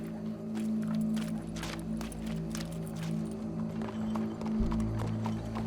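Horse hooves clip-clop in Red Dead Redemption 2, a steady rhythmic clatter of the animal moving at a walk over a humming game soundtrack, no speech.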